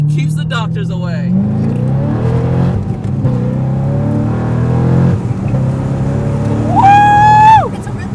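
Z06 Corvette at full throttle, engine roar climbing through several gear pulls with shifts between them and a rising scream near the end, heard from inside with voices under the engine.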